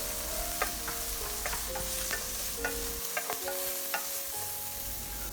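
Blanched beef chunks hit a wok with bean paste and fry with a steady sizzle, while a spatula scrapes and clinks against the metal in short, irregular strokes.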